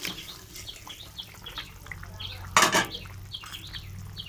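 Tangra fish curry broth simmering in a pot, with soft bubbling and light stirring clinks and a louder burst of sputtering partway through.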